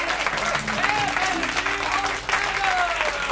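A club audience at a 1982 live blues show at Pit Inn claps and cheers in a steady wash of applause, with voices audible over the clapping.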